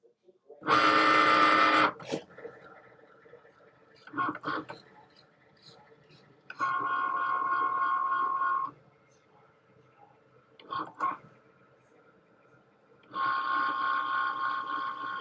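A craft cutting machine drives its blade through material in sustained buzzing mechanical runs, separated by short clicks and quiet gaps, heard up close.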